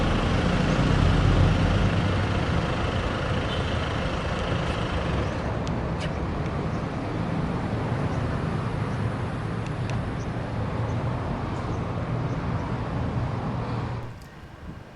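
A 2023 Kia Carnival SX 7-seater with a 2.2 CRDi diesel engine starts remotely and then idles with a steady, loud rumble for about 14 seconds before cutting off near the end, with no talk over it.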